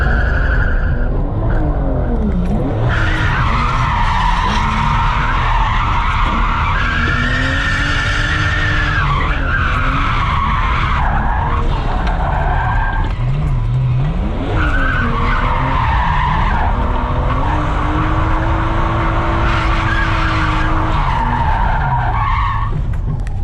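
Nissan 370Z street car drifting on worn tyres, loud sustained tyre squeal rising and falling over a roaring, revving engine for over twenty seconds, with no pause.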